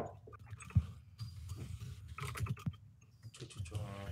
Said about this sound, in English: I'm typing and checking.